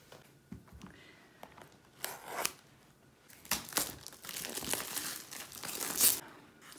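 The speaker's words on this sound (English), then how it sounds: "Cellophane wrapper is off." Cellophane wrapper being peeled off a diamond painting box, close crinkling and crackling in irregular bursts that grow busier and louder toward the end.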